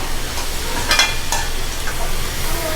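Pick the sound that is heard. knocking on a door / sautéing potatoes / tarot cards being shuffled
sautéing potatoes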